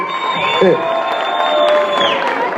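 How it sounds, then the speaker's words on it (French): A crowd cheering and clapping with whoops and shouts, loud and steady throughout, with a brief voice cutting through near the start, at a battle event at a bar. "Applaudissements pour Mécaz."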